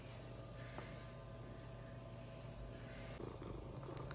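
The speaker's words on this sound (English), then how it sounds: "Oh, those purrs are so loud." A cat at a bed and breakfast purring loudly and steadily, close to the ear, a continuous low rumbling throb with no talk over it.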